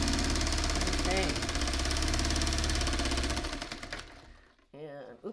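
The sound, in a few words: sewing machine sewing quilt block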